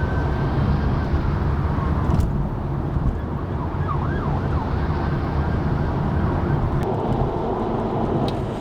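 A police car siren wails on the M6 motorway, heard from inside a moving car over heavy steady road and engine rumble, the warbling tone faint and partly buried.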